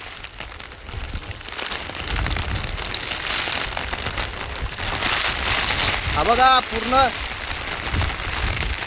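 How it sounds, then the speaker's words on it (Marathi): Heavy, wind-driven rain storm pours steadily in the Konkan countryside during rice threshing, a dense, loud roar throughout, with people talking and calling out over it. "भरपूर खतरनाक पाऊस"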